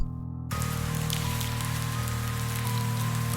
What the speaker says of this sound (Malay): Hujan turun lebat, membasahi laman.